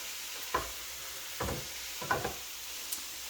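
Bean sprouts seasoned with MSG are stirred in a hot pan, with a steady sizzle under four or five scraping stir strokes spaced about half a second to a second apart.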